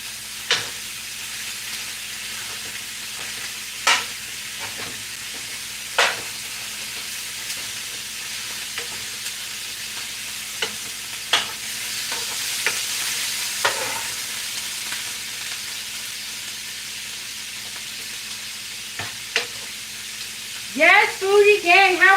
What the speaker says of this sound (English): I know you hear that sizzling. I got the beef on in the pan right back here.